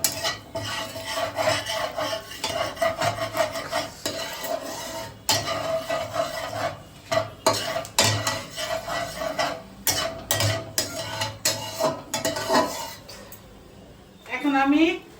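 Chopped mixed vegetables, including radish, eggplant, bottle gourd, peas, beans, cauliflower and cabbage, are tipped into a spiced pan and stirred. Close scraping and rasping stir strokes run throughout with clatter, and a person talks over it.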